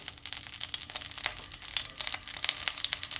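Steak bites searing in garlic butter and oil in a hot pan give a steady close sizzle with crackling spits and pops throughout, with no talk over it.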